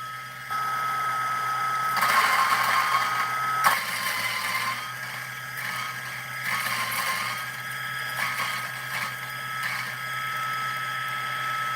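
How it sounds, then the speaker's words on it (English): A SHARDOR 64mm flat burr coffee grinder having its burrs adjusted: a whirring motor hum with a tonal whine that rises and falls, broken by several clicking, grinding bursts as the setting changes. "I almost didn't adjust my burrs."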